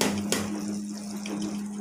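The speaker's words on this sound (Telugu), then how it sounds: "ప్లేట్లోకి నీళ్ళు పోస్తున్నాం కదా మనము." Water is poured into a plate while sugar syrup is tested for boondi laddu, giving a steady close watery rush over a low hum, with a sharp clink near the start.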